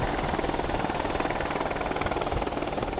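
An AH-64 Apache military helicopter drones loudly and continuously, its rotor chop and turbine roar filling the air evenly with no voices heard.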